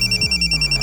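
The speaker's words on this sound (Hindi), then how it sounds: "सर नागपुर से शकील का फोन है।" Electronic telephone ringing in a rapid pulsing trill, steady and clear, heard briefly on its own over a low hum.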